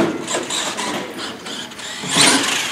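A radio-controlled pro mod drag car pulls a power wheelie, its small engine buzzing steadily at close range and then surging louder near the end of the burst.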